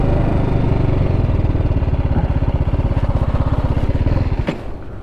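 A TVS Apache RR310 BS6 2023 motorcycle ridden on a highway, its engine throbbing steadily and loudly up close with a fast regular pulse that eases off near the end after a brief click.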